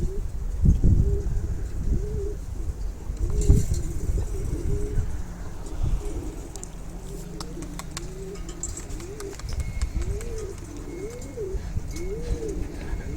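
Basra pigeons coo repeatedly in soft, low, rolling calls, one after another, over background traffic rumble and a few outdoor knocks.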